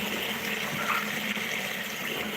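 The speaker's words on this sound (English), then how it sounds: "This is a hot water side, so I'm going to do more hot water than cold so that it'll be nice and warm." Hot water pouring from a tap into a bathtub, a steady broadband rushing gush, close and even for the whole stretch with no voices.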